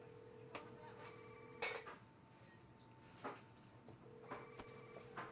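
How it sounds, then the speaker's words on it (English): A telephone rings inside the Law & Order: Legacies video game, faint repeated trills separated by pauses over a quiet background hum. "Yeah, your phone's ringing, lady."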